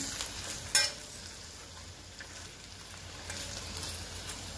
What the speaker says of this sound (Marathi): त्यात हे आपण तळलेले डबल फ्राय केलेले पनीर घालू। हे हलवून घ्यायचं छान।